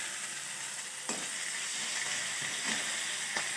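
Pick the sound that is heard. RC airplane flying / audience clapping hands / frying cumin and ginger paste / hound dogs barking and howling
frying cumin and ginger paste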